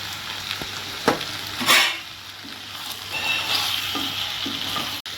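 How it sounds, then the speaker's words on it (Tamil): Chicken curry with tomato, onion and turmeric sizzles and fries in a pan while a utensil scrapes and stirs it, with a few clinks of the spoon against the metal. "இப்போ தக்காளி வெங்காயம் வதங்கிட்டு இருக்கு. இப்போ நான் இதில் சிக்கனை சேர்த்துக்கிறேன்."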